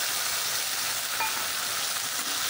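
Ground spices with coriander, chili and turmeric frying for a low-oil fish curry, an unbroken close hiss and sizzle in the pan with a faint stir, no talk.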